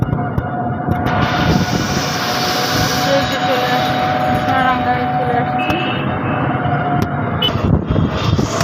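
An auto-rickshaw engine drones steadily during a ride through traffic in Khulna city, with road noise and a voice talking over the continuous rumble.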